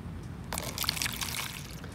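Water released down a stream-table model in a fourth-grade earth science experiment, trickling and splashing over silt and pebbles; a sudden broadband pouring rush starts halfway through and continues steadily, close and moderately loud.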